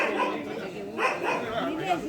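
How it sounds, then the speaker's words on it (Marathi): Small puppy giving high yips and barks, several short calls close by, mixed in with people talking over it throughout. "किती क्यूट आहे बघा पिल्लू"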